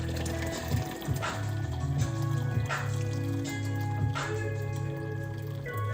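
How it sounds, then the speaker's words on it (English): Hot water pours from a kettle into a container of soda ash solution for tie-dyeing, a continuous liquid trickle with some clinking over a low background hum. "I'm just gonna pour hot water into the soda ash water to heat it up."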